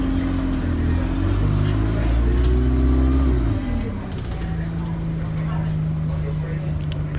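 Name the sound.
riding on a bus going home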